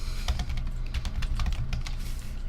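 Rapid typing on a computer keyboard while numbers are entered into an Excel spreadsheet, with steady close key clatter throughout and no talk.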